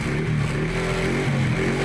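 A motorcycle engine idles steadily after being started during a check of the bike's charging system with a newly fitted voltmeter, a continuous close hum with a low throb and no speech.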